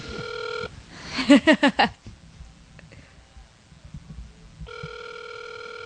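Ringback tone of an outgoing telephone call repeating in long steady bursts at the start and end, with a short burst of breathy sounds in between.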